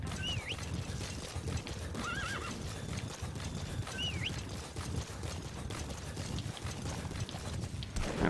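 Horse in Metal Gear Solid V: The Phantom Pain whinnying several times over a steady galloping clatter of hooves, with a continuous busy game soundscape throughout.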